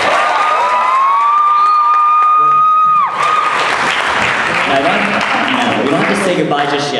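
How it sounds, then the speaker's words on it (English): A concert audience at an outdoor arts festival applauds and cheers after a singer's song, a sustained loud wash of clapping and shouts, with a held sung note ringing out over the first three seconds. "Can we get one more round of applause for Alexa?"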